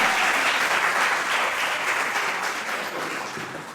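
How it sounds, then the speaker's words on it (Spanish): Church congregation applauding during a sermon, a thick wash of clapping from many hands that stays steady and then gradually softens over a few seconds. "Denle ese aplauso al Señor, por favor"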